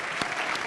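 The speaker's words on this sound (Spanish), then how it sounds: "Let us applaud the Lord." Church congregation applauding the Lord during a sermon, a dense burst of clapping from many hands, steady and fairly close.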